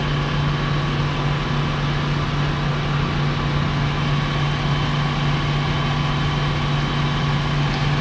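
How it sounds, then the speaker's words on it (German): A Fendt 728 tractor engine idles steadily and loudly nearby for the whole stretch, a constant low diesel drone with a fixed hum and no break, out on a field during rapeseed sowing with an Amazone Precea planter. "Gleich mal meinen Traktor noch ausmachen."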